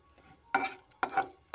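Mustard seeds, black cumin and chilies tossed in a dry wok, three short bursts of scraping and rattling stirs spaced about half a second apart over quiet background.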